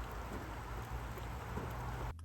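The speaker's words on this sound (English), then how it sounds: "It's the 12th of June and it's raining" Steady rain falls outdoors on a June day, a dense, even hiss with low rumble underneath that cuts off abruptly near the end.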